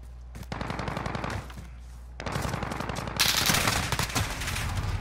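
A VTOL gunship in a shooter game fires rapid bursts from its guns, chattering volleys broken by short pauses, growing louder and denser toward the end with heavy, close impacts.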